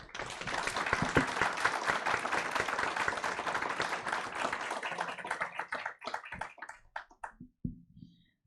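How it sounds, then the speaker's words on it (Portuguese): A room full of people applauds Educorp and the women attending a university anniversary event, with dense sustained clapping for about six seconds that then thins into a few scattered claps and taps before fading out. "eu vou pedir uma salva de palmas para a Educorp e uma salva de palmas para as mulheres que aqui estão presentes"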